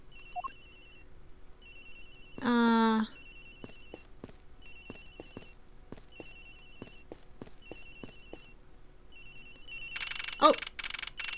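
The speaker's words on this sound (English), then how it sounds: "Agent Hicks' phone is ringing from somewhere, sir." A cell phone rings in the Ace Attorney Investigations game: a repeating electronic trill of short beeps plays at a steady rhythm, with a brief voice exclamation and a burst of game sound effects.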